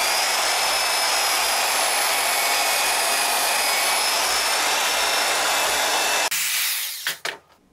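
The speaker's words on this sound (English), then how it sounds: "as slow as these portabands spin, it would be better to have less teeth per inch for aluminum" A portable bandsaw cuts aluminum in a fabrication shop with a loud, steady, close-up roar and whine that stops abruptly near the end, followed by a few clanks and knocks.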